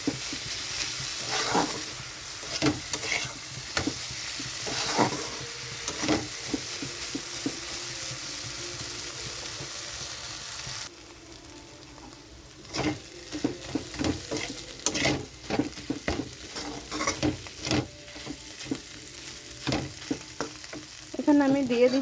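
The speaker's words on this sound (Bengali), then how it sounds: "মাছটা ভালোভাবে মশলার সঙ্গে মিশে যাবে আর টেস্টি হবে ভালো করে কষাতে থাকলে" Dried fish sautéing with spices in a pan, repeated spatula scrapes and stirring over a continuous sizzle, with a quieter stretch in the middle before vigorous stirring resumes.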